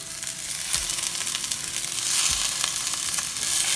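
Shrimp and vegetables sizzle and fry steadily in a hot pan, a continuous bright hiss with a couple of low thumps as food is added or stirred; no talking.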